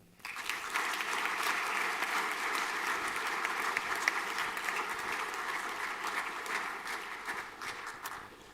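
Sustained applause from a school assembly audience as students receive junior colours, a steady dense wash of clapping lasting several seconds before tapering slightly at the end.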